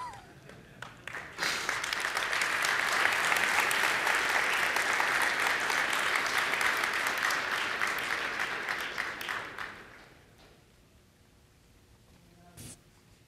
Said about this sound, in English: you can just make some applause for me for 5 minutes